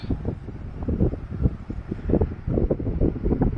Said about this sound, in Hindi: क्या हवा चल रही है, मस्त